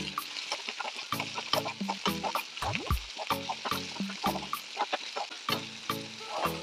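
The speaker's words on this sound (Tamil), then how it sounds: "இப்போ நம்ம இந்த ரெடியாக்கி வச்சுருக்கிற இந்த பீன்ஸை போட்டுடலாம். நல்லா பரட்டி விடுங்க." Green beans stir-fried with softened onions and salt in a pan, a steady sizzle broken by frequent sharp clacks of a spatula scraping and tossing, close and clear, with no talking.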